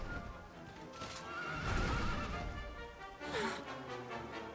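A horse in Dragon Quest XI lets out a long, loud whinny over clopping hooves and jingling tack, then gives a second shorter neigh near the end, close by and with no talking.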